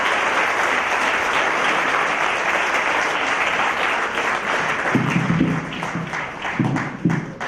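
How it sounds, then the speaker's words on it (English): A large crowd at an award ceremony applauds steadily and loudly, sustained clapping filling the space throughout. "can we have a big round of applause for Sri Kishore Biryani?"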